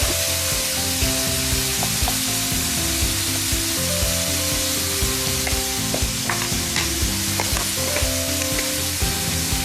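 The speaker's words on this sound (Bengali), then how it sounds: "একটু পানি মনে হয় লেগেছিল, তার জন্য তেলটা চটচট করছে" Hot oil crackles and spatters steadily in a frying pan while shrimp and beans cook, with sharp pops scattered over a dense, close sizzle and no voices.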